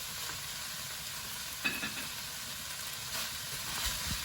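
Capsicum frying in a pan, a steady close hiss of sizzling oil with occasional scraping stirs and one sharp clink midway.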